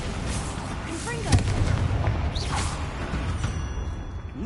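Explosive Bombarda and Confringo spell blasts in a Harry Potter video game, cast during a fight with spiders: a sharp booming burst erupts about a third of the way in, then a rumbling blast tail lingers over steady background game noise.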